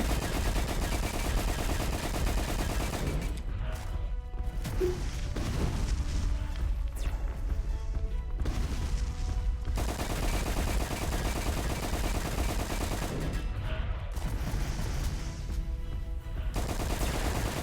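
Rapid gunfire in the Roblox game Dark Moon, dense bursts of shots running continuously and loud throughout, with brief lulls and sharp impacts mixed in.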